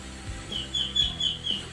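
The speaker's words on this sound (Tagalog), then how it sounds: "Ops, ibon." A bird calling at night near the sea during a night spearfishing dive in the Philippines, a thin high chirping repeated several times, faint and distant over low rumbling and bubbling background noise.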